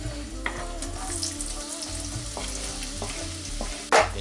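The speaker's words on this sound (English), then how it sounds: "Just let those fry for a few minutes," Garlic and chopped onions frying in ghee for a kheema, a soft, steady sizzle close by with a few light stirring knocks and a sharper clatter at the end.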